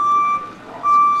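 Truck reverse alarm during an animal shelter move, a loud steady tonal beep sounding twice with a short gap between, close and dominant over a dull outdoor rumble.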